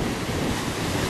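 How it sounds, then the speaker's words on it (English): Small waves lap on a windy lake near Queenstown, a steady wash of water mixed with wind rumbling against the microphone, with no voices. "there's more waves in this lake than what I've seen up to now on the beaches"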